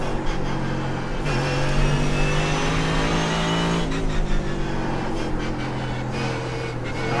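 Mercedes-AMG GT3 race car engine in iRacing, a steady loud drone held in third gear with gear changes and shifting pitch, continuous through the run, no talking.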